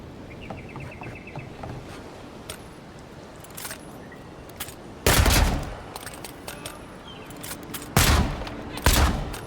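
Pistol shots from the Avowed video game, a few sharp broadband blasts standing out loudly against a quieter background of game ambience, coming singly and in a short pair toward the end.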